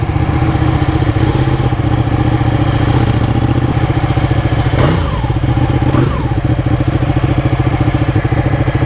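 A Ducati Panigale 1199 motorcycle engine runs loud and steady while riding, with a continuous close, throbbing roar and two brief revving swells partway through.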